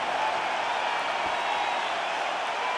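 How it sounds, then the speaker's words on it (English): A restless arena crowd in a UFC fight simulation video game, a steady, dense wash of murmuring and scattered applause holding at an even level throughout. "Crowd getting a little bit restless"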